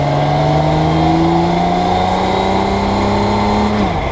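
Campagna T-REX three-wheeler accelerating through the gears, a loud, close engine note climbing steadily in pitch, then dropping sharply at a shift near the end.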